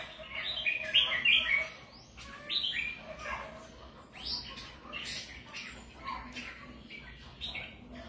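Caged songbird chirping in a bird-keeping setting, bright bursts of tweets and trills close by, loudest early on and then recurring intermittently over a low background hiss.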